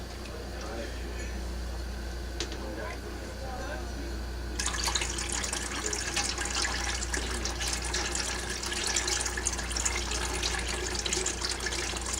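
Lye water is poured into soap-making oils in a pot for cold process soap. A steady splashing pour starts partway through and continues to the end.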